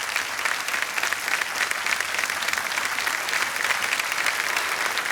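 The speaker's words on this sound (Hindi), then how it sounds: "और तालियां बजती रहनी चाहिए इनके लिए" Studio audience applause fills the set of the KBC game show, a dense, steady burst of clapping that holds at full strength throughout, with no talk over it.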